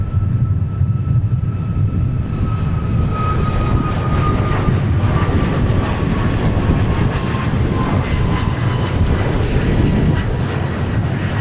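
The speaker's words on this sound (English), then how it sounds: "this 737-700 arriving from Orlando" A Boeing 737-700 airliner arriving from Orlando at Dallas Love Field roars steadily and loud for the whole stretch, a continuous engine rumble with a faint whining tone drifting downward.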